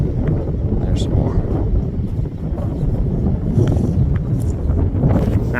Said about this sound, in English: Boy, that's a wind, strong wind.